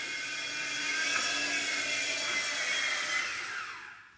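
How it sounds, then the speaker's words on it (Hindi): A toy helicopter flies close by with a steady, high-pitched electric whir that holds for about four seconds before fading out. "हेलीकॉप्टर हेलीकॉप्टर चला मैंने चलाया"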